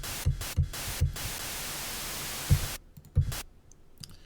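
Noise oscillator from a Serum software synthesizer, a dense hissing static wash with sharp rhythmic clicks that cuts off abruptly, leaving a few faint ticks.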